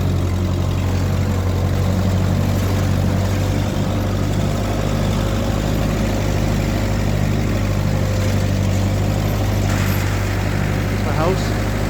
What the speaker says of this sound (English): Go with the tractor.